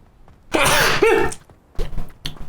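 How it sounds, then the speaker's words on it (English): One person sneezes close to the microphone, a sudden loud burst with a rough, voiced tail, followed by brief throat noises and breathy sounds after a short pause. "I'm about to sneeze, which ain't great"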